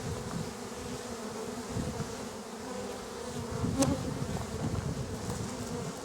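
Honey bees buzz steadily at an open hive during an inspection, a dense, even hum close by with no voices.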